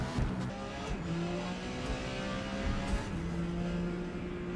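Porsche 956 prototype race car in the Forza Motorsport racing game on a wet Grand Oak Raceway track, its engine droning steadily at high revs with shifting harmonic tones and brief tire noise, loud and continuous with no talking.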